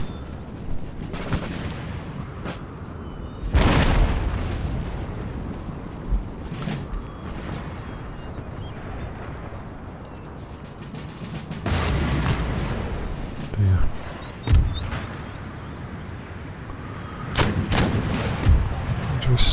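Artillery salvos in Empire: Total War (DarthMod), a land battle with line infantry: several heavy booming volleys burst out at irregular intervals over a continuous rumbling battlefield din, loud and close.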